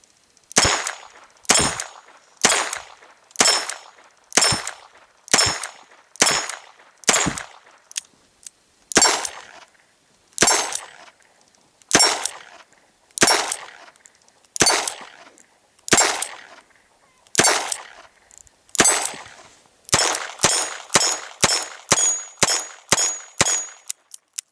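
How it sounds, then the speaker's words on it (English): S&W 317 Kit Gun revolver firing CCI Blazer 40 grain lead rounds, a long series of sharp outdoor shots at a steady pace with ringing tails, quickening into rapid fire near the end. "We are shooting the CCI Blazers 40 grain lead round rounds."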